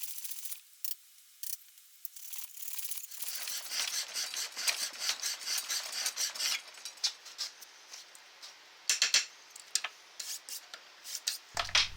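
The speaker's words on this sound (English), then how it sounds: "it took a lot of work to get it flat with just a file" Hand file rasping across the flat face of an old junk sledgehammer being turned into an anvil, repeated scraping strokes close by, steady and fairly loud, with brief pauses between bursts and no talking.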